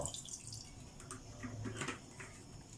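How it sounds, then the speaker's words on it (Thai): Plain water poured into a pan of small wild mushrooms, a soft steady splash and trickle up close, fairly quiet and without talking. "นะใส่น้ำเปล่า"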